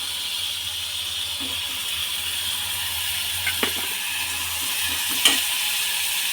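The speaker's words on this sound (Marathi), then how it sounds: "यामध्ये आपण हा बारीक चिरून घेतलेला गाजर टाकायचं बारीक चिरलेला आलू" Finely chopped carrot and potato sauté in a pressure cooker for spiced rice, giving a faint, steady sizzle with a few soft knocks and scrapes.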